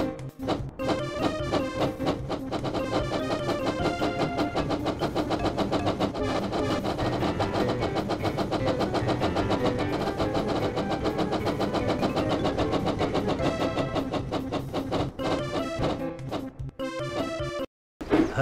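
Percy the engine races fast in the Thomas and Friends: Hero of the Rails Wii game, a loud, steady engine drive blended with busy game music that runs without pause before cutting out briefly near the end.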